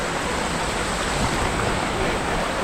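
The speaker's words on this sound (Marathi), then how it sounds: "पाऊस आहे जोरात" Heavy rain with water flowing along a forest trail on a hillside trek, a dense, steady roar of water filling the scene continuously and loudly, with no pauses.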